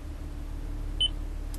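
A single short electronic beep from a Toyota lockpick device, clear and close, sounding once over a low steady hum.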